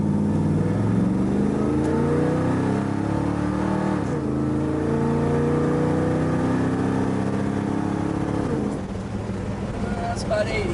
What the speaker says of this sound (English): has a real nice deep mellow tone, about what you'd expect from a set of Corvette side pipes